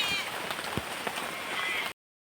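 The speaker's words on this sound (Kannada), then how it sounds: "ಈಗ ಮಳೆ ಸಹ ಬರಲಿಕ್ಕೆ ಶುರುವಾಯಿತು." Rain starting to fall outdoors near a house, a steady close patter and hiss of drops hitting surfaces, with a few louder splats, before the sound abruptly cuts off.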